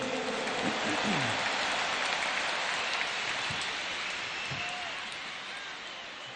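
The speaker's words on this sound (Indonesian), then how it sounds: "Tepuk tangan dulu yang meriah untuk Gus Muhaimin" Applause and crowd noise at a large presidential campaign rally in Jakarta, a broad steady wash of clapping that slowly fades toward the end.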